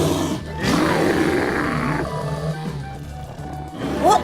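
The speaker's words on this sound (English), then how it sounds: "What is that dreadful noise? Oh my! Is that a dragon?" Cartoon dragon letting out a long, loud, rumbling roar that swells and then trails off into quieter grumbling, heard alone.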